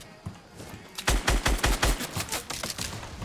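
Gunfire in Fortnite, a quick burst of about eight close, punchy shots in a steady rhythm followed by a few lighter, faster reports, loud and without talking.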